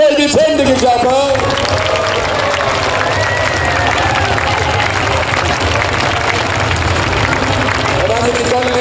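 Cheering and applause from a crowd at a knights' festival in Laxenburg, sustained, loud and dense clapping filling the space, with a voice speaking briefly at the start.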